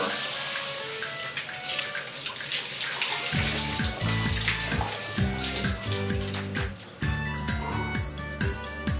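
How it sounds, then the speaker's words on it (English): Water runs steadily from a hotel shower, a continuous close hiss with knocks and bumps of movement under the spray, and no talk. "Now this is a proper shower."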